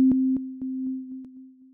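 A steady synthesized tone from Sonic Pi runs under an echo effect, pulsing about four times per second with clicks that fade gradually as the repeats decay.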